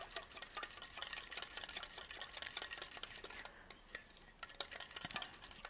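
Korean spicy cucumber salad being mixed in a bowl, a steady run of soft wet tossing and faint clinks repeating close by without any talk.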